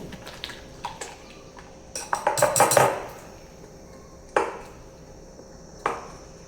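A spoon mixes gram flour idli batter in a bowl, giving a quick cluster of close, sharp clicks and knocks, then two isolated taps spaced a couple of seconds apart.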